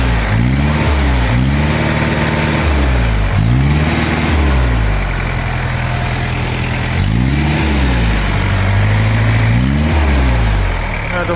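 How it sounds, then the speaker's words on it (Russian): A tractor engine with a front loader runs close and loud, its steady mechanical chug broken by repeated short revs that rise and fall in a loose rhythm. No one speaks. "слышно, что двигатель работает максимально ровно, максимально хорошо, мягко"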